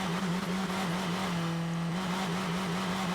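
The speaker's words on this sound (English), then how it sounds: "Oh, doesn't that engine sound wonderful?" A car engine idling in a garage, started on a fresh battery, a close steady low rumble with a constant even hum and no voices.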